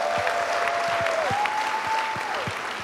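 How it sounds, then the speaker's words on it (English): Audience applause at a Christian gathering's season finale, a dense continuous wash of many hands clapping, fairly loud and steady throughout, with a sustained tone gliding underneath. "A round of applause for UPSA for being consistent."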